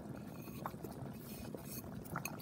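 Rava pongal mixture of roasted semolina bubbling in a pot over a medium flame, a soft steady simmer with faint popping bubbles throughout, close and quiet with no talking.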